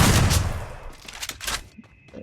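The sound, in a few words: shotgun and MP40 gunfire in a video game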